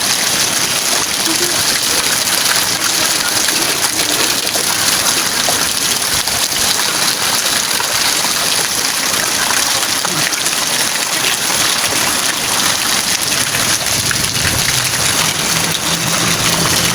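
Water pouring into a bucket, a continuous loud rushing splash that stays steady and unbroken for the whole stretch, close by, with no talk over it.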